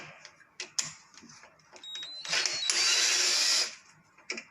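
A tight screw on a Samsung washing machine is loosened during a repair, with a loud, steady mechanical whirring burst of about a second near the middle, framed by softer clicks and handling noises.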